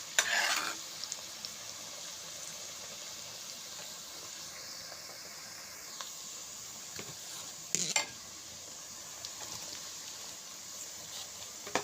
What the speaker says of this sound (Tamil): அந்த வெங்காயத்தையும் அதிலே போட்டு நல்லா வதக்குங்க